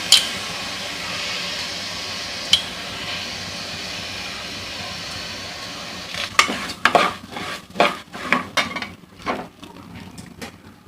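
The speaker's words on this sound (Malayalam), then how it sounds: "അതിലോട്ട് നമ്മൾ അരി കഴുകിയിട്ട് കൊടുക്കാണ്" Washed rice goes into a pot on the stove for Kerala paachoru, with a low background hum and then a run of clattering, scraping metal pot and utensil knocks in the second half.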